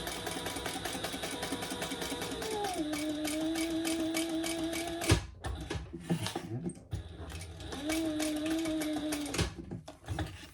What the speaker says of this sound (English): So we're going to sew down here to that line and do a 90-degree turn.